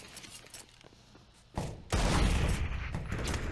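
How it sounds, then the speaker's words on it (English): A Desert Eagle shot and a grenade go off in a CS:GO pro match on Mirage: faint clicking footsteps give way to a sudden loud bang, then a second, heavier blast with a rumbling, sustained tail. "that was the Deagle shot, not the nade."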